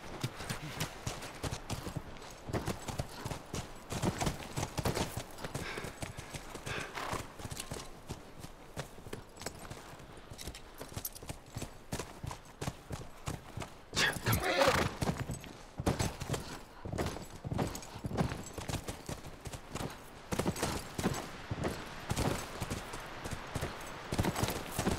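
Horses trot steadily in the video game The Last of Us Remastered, with rapid, overlapping hoof clip-clops, loud and close, continuing throughout with occasional louder thumps and a brief snort.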